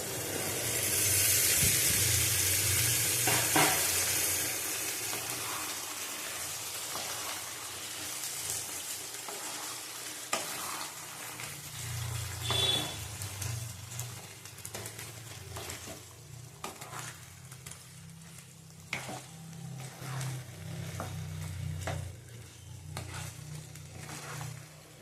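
Boiled kabuli chickpeas stirred and fried in a pan, giving a continuous sizzle with occasional scraping strokes and a loud hissing burst at the start, no voices over it.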